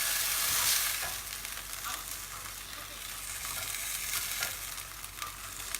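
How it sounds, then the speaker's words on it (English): Beef browning in a pan over really high heat, a steady loud sizzle and frying crackle with occasional stirring scrapes throughout. "you just want to brown it at a really high heat, get it all nice and browned"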